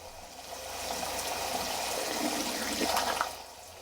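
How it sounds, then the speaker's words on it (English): An Ariston water heater tank is flushed out through a hose, its water gushing in a steady rushing flow that swells gradually and then tapers off, with no talk. "open the valve until it's fully opened and let it flush the water tank until the water coming out the hose clears up"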